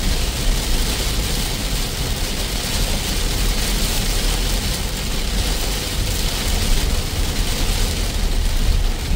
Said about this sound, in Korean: 비가 뭐 엄청나게 쏟아집니다.